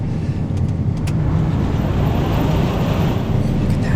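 A combine harvester engages on a corn harvest, its engine and machinery producing a steady, loud, broadband rumble and whirr throughout with no break.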